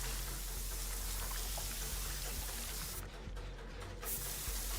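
A steady, hissing spray sound from Dead by Daylight is dense and continuous, like fine rain on a surface, with no voices over it.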